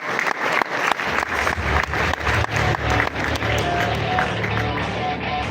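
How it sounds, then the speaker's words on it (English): An audience at a London smartphone launch event applauds as guests come on stage, with loud, sustained clapping and sharp individual claps up front that settles into a steadier crowd roar with faint voices beneath. "Give them a round of applause"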